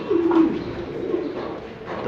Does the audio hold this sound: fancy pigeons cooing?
yes